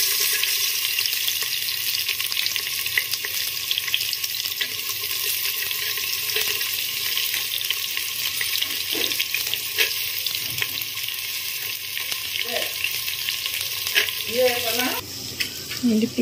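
Onions fry with garam masala in a pan for a mutton dish, giving a steady close sizzle with occasional stirring scrapes throughout.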